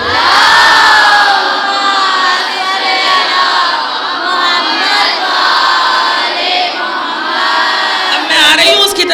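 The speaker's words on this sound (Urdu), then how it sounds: "نعرہ حیدری، حیدری، حیدری، نعرہ صلوات" A crowd at a Shia majlis gathering in Delhi shouts the Nara-e-Haidari religious slogan in unison, a loud, dense wall of many voices sustained throughout with rhythmic surges.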